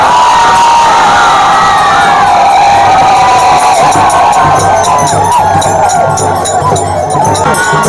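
A large crowd cheers and shouts loudly and continuously during a Dhulivandan festival procession in Shrivardhan, where deity palanquins meet, with children's high-pitched yells mixed into the dense roar.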